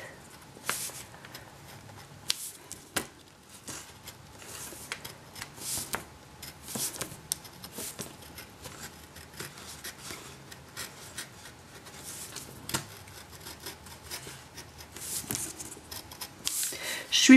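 Scissors snip through card stock while cutting out a figure's hand for a handmade gift card, giving quiet, close, irregular clips and rubbing paper rustles.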